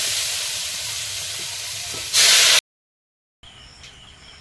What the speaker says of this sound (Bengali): ভালো করে ভেজে নিয়ে কাঁচা লঙ্কাটা দিলাম এবারে এর মধ্যে জল দিয়ে দেবো